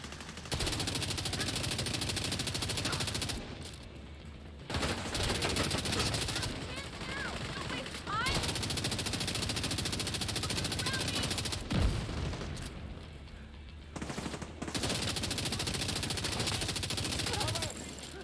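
Honey Badger rifle fire in The Division 2 rattles in long, loud automatic bursts broken by brief pauses for reloading, with players talking over the shooting.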